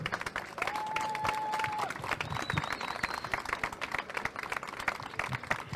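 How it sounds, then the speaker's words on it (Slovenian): A crowd applauds steadily for a singer, with dense clapping filling the space indoors and a few faint whistles rising above it. "Torej še en lepi aplavz za našo Doro."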